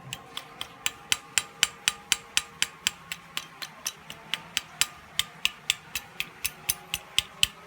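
Sharp metallic tapping from the valve rocker of a Yamaha Jupiter Z motorcycle engine repeats quickly and evenly, around four ticks per second, close and clear with no talking.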